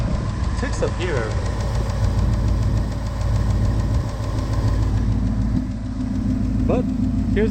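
A 2018 Ford Mustang GT V8 engine with an aFe intake idles steadily with a faint, rapid ticking running through its low rumble.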